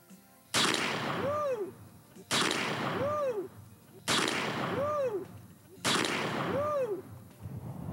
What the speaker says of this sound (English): The bullet hits the ground in front, splits, and takes out two targets.